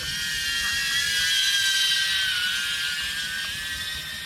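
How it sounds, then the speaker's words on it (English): Tiny Mobula 6 HD FPV drone with propeller guards flying among trees in a forest, a steady high-pitched whine of small propellers buzzing continuously at close range, with no talking. "This drone is really a nice tree explorer, you know."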